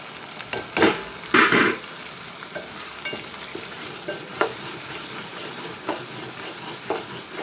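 Ground spice powder cooking in a pan for a Telugu ginger and fresh turmeric tamarind stew, with scattered sizzling and stirring bursts, a few louder scrapes early on, then lighter intermittent clatter, no talking.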